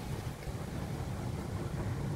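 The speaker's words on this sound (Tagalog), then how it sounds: "Talagang malakas pa ang hangin. Sa may kasama pang ulan." Strong wind gusts steadily during a storm with rain, a dense, continuous rushing roar buffeting the microphone with no break and no voices.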